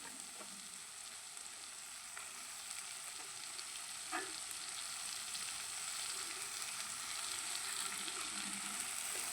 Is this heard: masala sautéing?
yes